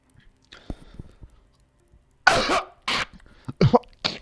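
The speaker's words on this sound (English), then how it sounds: "Sorry about the cough." Several sharp, loud coughs in quick succession, close to the mic, following quiet background shuffling.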